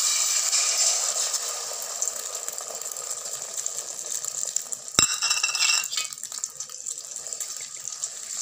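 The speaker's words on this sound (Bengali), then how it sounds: "ডিমটা তেলের উপরে দিয়ে দিলাম" An egg drops into hot oil in a wok and sets off a loud, close, steady sizzle, with a sharp clatter about halfway through before the frying hiss goes on.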